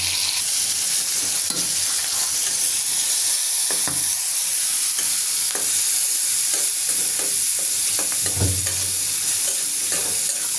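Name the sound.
frying chilies with salt and turmeric in a pan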